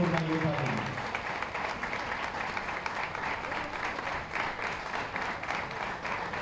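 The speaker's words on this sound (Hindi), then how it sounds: "स्वागत मिले जोरदार, तालियां मिले जोरदार" A crowd at a public ceremony honouring Covid-19 frontline workers claps steadily and loudly throughout. The applause starts under the tail of an announcer's voice.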